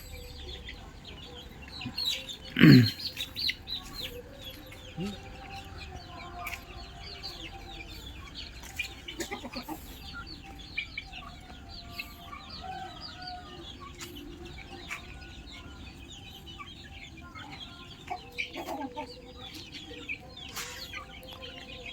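Hens and chicks cluck amid a busy farmyard background, with one loud squawk early on and scattered soft peeps and clucks throughout.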